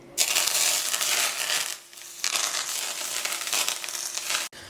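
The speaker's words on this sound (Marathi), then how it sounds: "आता हे कडकडीत तेलाचं मोहन घालू" Smoking-hot oil hits a bowl of flour with coriander for dough, a loud hissing crackle in two bursts separated by a brief lull, close and harsh.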